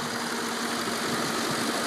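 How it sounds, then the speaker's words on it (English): A 2000 Audi A8 engine idles steadily at close range, a continuous even hum with no revving or talking. "Here it is running."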